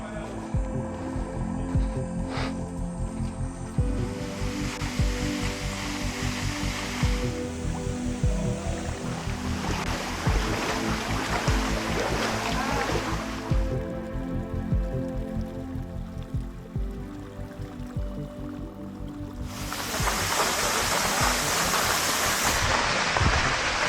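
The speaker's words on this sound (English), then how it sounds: "we are finally here in the cave and it's spectacular with this waterfall" Waterfall inside a cave in the Brazilian Amazon rainforest, a steady rushing splash of falling water that swells and dips across the clip, with some voices faintly mixed in.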